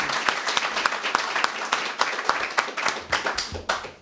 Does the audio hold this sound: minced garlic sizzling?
no